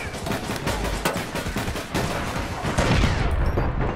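Rapid, loud gunfire crackles without pause, sharp sniper rifle shots overlapping in a dense burst like a firefight in the shooter game APB Reloaded.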